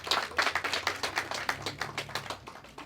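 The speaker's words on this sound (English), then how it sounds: "So let's give them a round of applause." Audience applause at a voter-registration rally: a modest crowd claps briskly and evenly, a continuous patter of close hand claps at moderate volume that tapers slightly toward the end.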